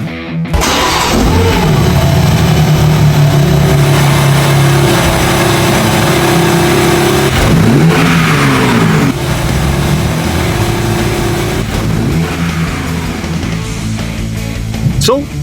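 A BMW M4 G82 starts and revs up, its engine loud and close, with a throaty rise and fall in pitch across the clip over a steady rumble; a voice is briefly present.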